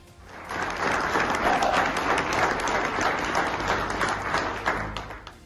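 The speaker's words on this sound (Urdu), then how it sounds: "حال تالیوں سے گونج اٹھا" A hall audience at a community ceremony in Canada bursts into applause that swells quickly, holds as a thick, steady wash of clapping, then eases slightly toward the end, with faint voices mixed in.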